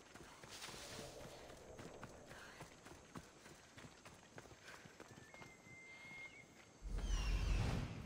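Horse hooves clip-clop in a repeated walking rhythm through Assassin's Creed Odyssey gameplay in a cave-hunting exploration, fairly faint, with ambient game sound and a louder low rumble near the end.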